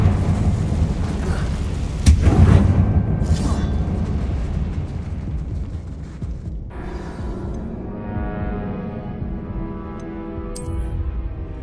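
A Confringo fire spell explodes inside a closed mine in Hogwarts Legacy, a single deep thunderous boom that rolls off into a low rumble, followed by quieter game ambience and music.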